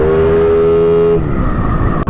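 Yamaha NMAX scooter idling close up with its exhaust pipe under a rattle test, a steady loud engine drone with strong harmonics that shifts pitch abruptly partway through, then continues rougher and unsteady.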